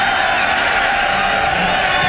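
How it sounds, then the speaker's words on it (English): A football stadium crowd at a 2001 XFL game between the Las Vegas Outlaws and Chicago Enforcers roars in a dense, loud, continuous wash of massed voices that holds steady throughout. "Listen to the crowd."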